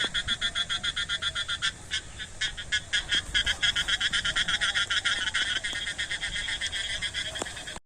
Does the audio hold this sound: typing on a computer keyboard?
no